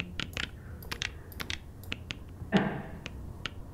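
Short, crisp UI button clicks, panned to the right, tapping out in an irregular rhythm, close and dry, with one softer thump midway.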